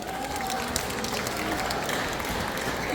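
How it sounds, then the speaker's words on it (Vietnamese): Applause from an audience at a community anniversary celebration in Westminster, California welcomes a young girl taking the stage as MC, a dense, steady wash of clapping with some crowd murmur throughout. "Xin một tràng pháo tay thật lớn để chào đón bé Evelyn"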